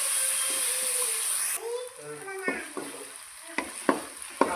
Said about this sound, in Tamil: இஞ்சி பூண்டு பச்சை வாசனை போகிற வரைக்கும் நம்ம வதக்கி விட்டுக்கலாம்